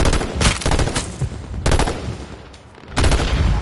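Loud bursts of automatic gunfire from the video game H1Z1, three rapid rattling volleys separated by brief pauses, close and dominant.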